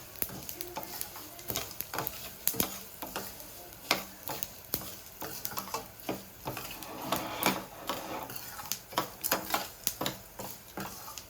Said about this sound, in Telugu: లాస్ట్లో కొన్ని నువ్వులు వేసి ఒకసారి కలిపి తీసేస్తాం.